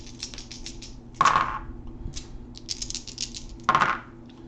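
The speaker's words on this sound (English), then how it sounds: "Both players are going to roll their dice." Dice are rolled onto a board-game table in two quick bursts of rattling clatter, each a sharp tumble of hard cubes settling, amid light handling of game pieces and cards.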